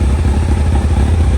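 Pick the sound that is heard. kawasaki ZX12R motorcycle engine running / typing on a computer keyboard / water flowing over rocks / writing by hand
kawasaki ZX12R motorcycle engine running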